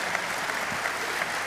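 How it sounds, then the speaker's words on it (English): Steady audience applause fills the whole stretch at moderate level, a dense, even patter of many hands clapping in a hall. "I think that deserves a round of applause."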